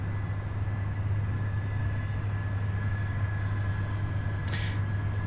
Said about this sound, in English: on departures, we have a CRJ 900